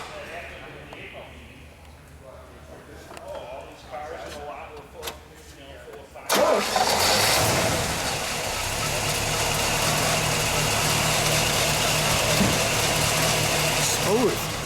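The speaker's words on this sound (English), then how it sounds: "let's start it for just a second, and we'll get a little exhaust note" A 1972 Pontiac Trans Am 455 HO engine fires up abruptly and settles into a steady, loud idle with a throaty exhaust rumble, after quieter background noise and chatter.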